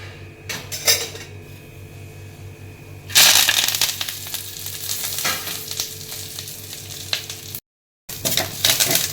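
Curry leaves fry in oil in a pan, with a loud steady sizzle that bursts in partway through, overlaid by scraping and clinking as a spoon stirs against the metal; earlier there are quieter pan knocks.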